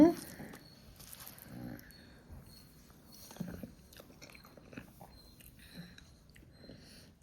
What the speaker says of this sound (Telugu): ఇదిగోండి వంకాయ ముక్క ఉందా, ఇదిగోండి డ్రై ఫిష్ తింటున్నాను.